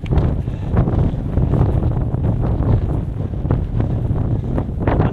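Strong wind buffets the microphone on the Cross Fell summit, the highest point of the Pennine Way, a steady loud roar of gusts running unbroken throughout with no voices.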